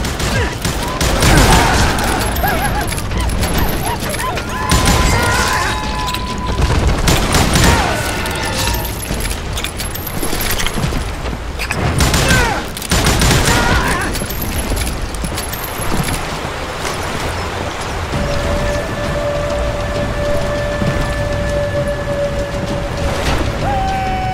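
A video game gunfight set in rugged western country, with dense bursts of rapid gunshots coming in loud volleys and pauses, close and harsh, over a background of rumbling noise.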